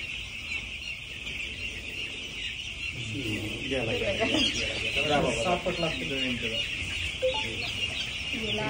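Chickens cluck in a poultry farm, with overlapping close clucks and short calls over a constant background hum, while people talk indistinctly.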